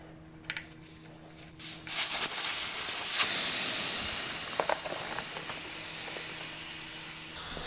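Air rushes out of a Himiway e-bike tire once its valve stem has been removed: a sudden loud hiss begins, holds steady, then slowly fades over several seconds, with a few faint clicks and handling noises and no talking.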